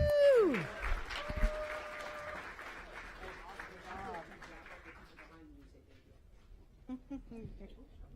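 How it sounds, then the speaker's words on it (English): Applause rises from the audience at a school recognition meeting, loudest at first and then thinning out under a mix of voices and chatter in the room. "Clap it up for our boys one more time."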